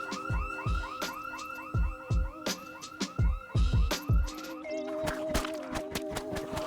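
Electronic alarm going off in the toilets of a country club in Project Zomboid, a loud rapid warbling cycle joined by heavy thumping impacts, then shifting to a steadier tone with sharp clatters.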